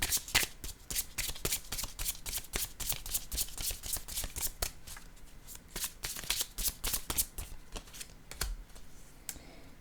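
Playing cards shuffled and drawn by hand, a quick run of crisp riffling snaps and flicks in steady rhythm, close and fairly quiet, with no voices.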